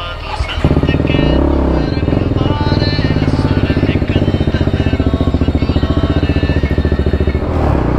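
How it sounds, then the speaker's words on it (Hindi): Motorcycle fitted with a Yoshimura R77 exhaust, riding close and loud with a deep, throbbing engine note that rises as it revs and holds a steady pulsing rumble. "सो गाइस, अब एग्जॉस्ट साउंड सुनो यार आप"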